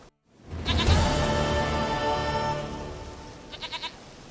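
A goat in The Witcher 3 lets out a long, loud wavering bleat close up, followed by a short, quieter stuttering bleat near the end.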